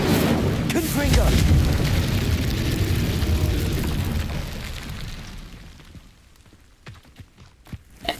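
A Confringo blast spell from Hogwarts Legacy bursting in a loud, deep boom with a rumbling tail that fades over several seconds, followed by scattered softer pops and impacts; a voice talks through it.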